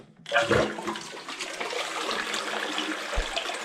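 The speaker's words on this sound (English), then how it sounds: "Let's try the full flush." A Toto Aquia IV dual-flush toilet doing a full flush, with a loud rushing surge of water that starts abruptly and keeps swirling and draining steadily for several seconds, close by and with no speech.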